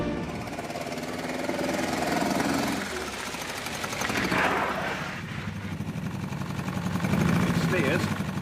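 An old 1939 Morgan F4 car engine turning over and running roughly with uneven chugging and sputtering, loud and close, with a few voices heard underneath.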